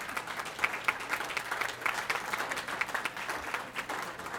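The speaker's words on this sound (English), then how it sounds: "give all of our award recipients another round of applause" Round of applause for award recipients at an awards reception, dense steady clapping from a crowd at moderate distance, continuous throughout with no talk over it.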